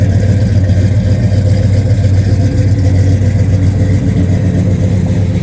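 A 1969 Chevelle SS with a fuel-injected 454 V8 and headers rumbles loudly and steadily up close, a deep continuous burble that holds throughout with no talking.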